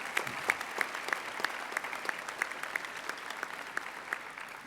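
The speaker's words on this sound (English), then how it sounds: "have another round of applause" An audience at a school prizegiving applauds a school band, a dense, steady wash of clapping from a large crowd, with some sharper individual claps standing out in a regular rhythm throughout.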